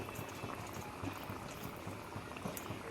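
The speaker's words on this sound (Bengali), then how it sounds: "আমি এটার মধ্যে জল দিলাম" Water is poured into a cooking pan of fish curry, making a steady, dense bubbling hiss that runs unbroken and close for the whole stretch, with no talking.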